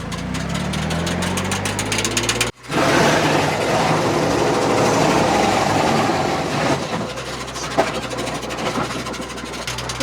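A tractor PTO-driven wood chipper runs steadily with a loud, continuous mechanical roar, stopping abruptly for a moment before surging back to full noise, with a low engine drone underneath.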